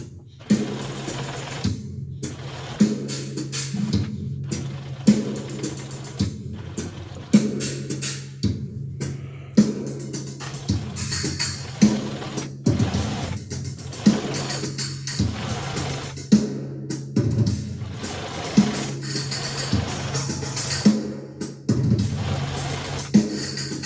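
A sewing machine stitching a small chunk of quilt batting, with close, steady humming bursts of stitching broken by short pauses, repeating through the stretch.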